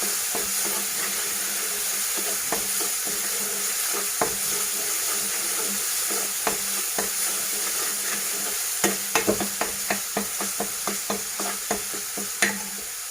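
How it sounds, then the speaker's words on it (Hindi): Ginger garlic paste is stirred and fried in a pan for a mixed saag, with a steady sizzle throughout and repeated sharp scraping clicks of a spoon against the pan that grow more frequent toward the end. "2 टेबल स्पून जिंजर गार्लिक का पेस्ट डालेंगे। इसको हम अच्छे से भुनेंगे।"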